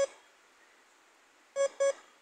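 Two short electronic beeps in quick succession from a DCH 85 metal detector after a pause, preceded by the tail of an earlier tone, with no talk.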